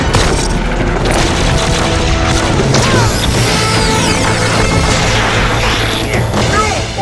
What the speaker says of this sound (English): Oh, it's that laser gun!